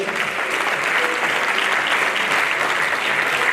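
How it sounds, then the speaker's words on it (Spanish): Loud, sustained applause from a gala audience honoring mountaineering award winners, dense clapping filling the hall evenly throughout without a break. "pois fortes aplausos igual de todos xeitos"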